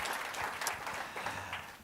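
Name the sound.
applause for the Dalton House staff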